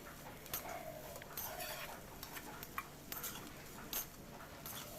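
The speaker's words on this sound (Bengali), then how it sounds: "এগুলো দিয়ে 3-4 মিনিট একটু মিডিয়াম ফ্লেমে নাড়াচাড়া করলেই কিন্তু আমার একটা পুর মতো তৈরি হয়ে যাবে" A spoon stirs an egg and cabbage filling in a pan over a medium flame with no water added, making faint, irregular scraping ticks over a low, steady background hiss.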